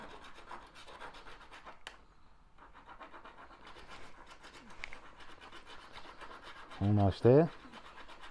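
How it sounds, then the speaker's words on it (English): A very small file rasps along a glued seam on a 1/6 scale Armortek Hetzer Jagdpanzer 38 tank model, giving soft repeated scratching strokes close by, with a few words spoken and two louder bumps near the end. "This is just a very small file."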